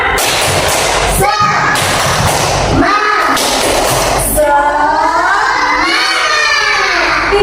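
A primary school class in Indonesia claps out a rhythmic spirit-clap pattern in sharp bursts, mixed with children's voices shouting along and a teacher speaking between rounds.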